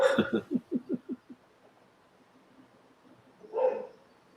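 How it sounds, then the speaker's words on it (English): Dog barking at people walking past a house outside, a quick run of six or seven rhythmic barks fading in strength, then quiet, then one more louder bark, all heard indoors at moderate distance. "this stupid dog barks at every person that walks by the house"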